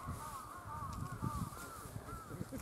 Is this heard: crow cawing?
yes